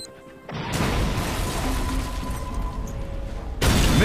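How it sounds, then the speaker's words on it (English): Explosion in the video game Army Men RTS, a sudden loud crash that swells into a sustained roaring blast, then a second loud burst near the end, with no talking. "The explosion."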